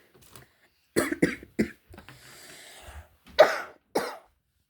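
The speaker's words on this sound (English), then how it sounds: "I've been coughing quite a bit." Several sharp coughs come in short bursts, with a throat-clearing sound in the middle and no talking.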